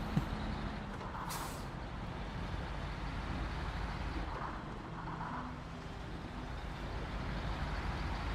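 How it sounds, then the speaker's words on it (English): Truck engine rumbling steadily in a winter truck-driving video game on PS5, with a short hiss of air brakes near the start and faint traffic-like noise throughout, fairly quiet overall. "Anyway, as I was saying, I really like this truck."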